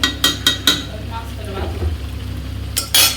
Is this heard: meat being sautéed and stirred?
yes